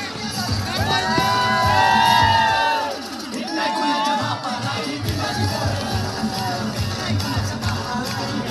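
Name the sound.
crowd clapping and cheering at prize distribution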